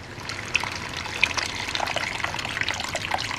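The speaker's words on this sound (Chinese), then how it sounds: "要出沙以后啊，咱们倒水，" Water is poured into a pan of cooked-down tomatoes fried with scallions in olive oil, giving a steady splashing, trickling pour with a few sharper splashes, close and moderately loud with no talking.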